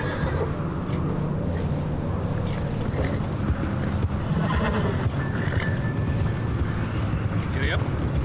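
A horse whinnies and hooves clip-clop in a video game, with a long neigh standing out over a constant backdrop of game ambience and spoken dialogue.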